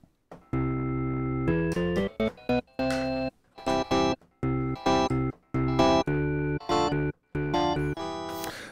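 A sustained organ-like additive synthesizer tone with steady, rich harmonics, played in short and long held notes separated by brief silences, clear and alone.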